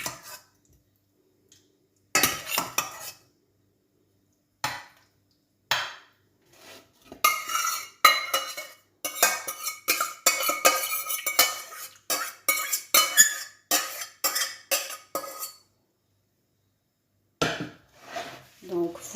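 Zucchini being placed into an oven dish in a home kitchen: sporadic clinks and soft clatters of cookware and utensils come in short bursts separated by quiet gaps.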